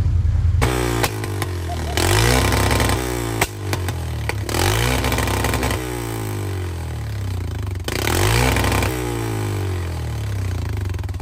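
A vehicle fitted with tire chains revs hard at full throttle in winter riding conditions, a loud, close, sustained engine roar with rising and falling revs and clattering underneath.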